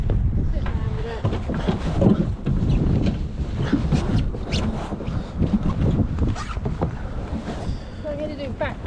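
A power boat engine runs on open water while the boat is reversed and turned during a level 2 training session, its drone mixed with heavy wind buffeting the microphone and people talking throughout.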